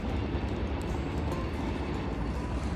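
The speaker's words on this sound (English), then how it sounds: "There's a train going across." A train rumbles across the valley below a hillside trail, a steady low roar holding for the whole stretch with no talk over it.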